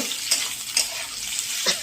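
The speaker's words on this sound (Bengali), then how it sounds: "এবারে এর মধ্যে আমি সয়াবিনটা দেব, দিয়ে ভাজবো, একটু ভাজা ভাজা করব।" Soybean chunks are stir-fried in a pan with already fried onion and potato, giving a soft sizzle broken by a few sharp scraping strokes of a stirring spoon, close by and with no talking.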